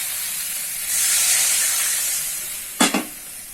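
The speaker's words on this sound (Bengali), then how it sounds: "বন্ধুরা জল দিয়ে দেবো।" Water poured into a pan of sizzling fried spice masala, a loud hissing rush of steam that swells suddenly, holds and slowly fades, with two short clanks near the end.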